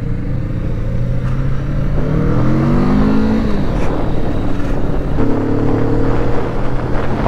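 Kawasaki ZX-4RR motorcycle engine pulling hard, revs climbing in rising sweeps through the gears with brief dips between, loud and close over steady wind roar.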